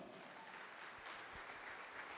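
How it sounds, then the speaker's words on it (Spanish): A church congregation claps together in steady sustained applause, a fairly soft, even patter with no voices over it. "Dele un aplauso al Señor"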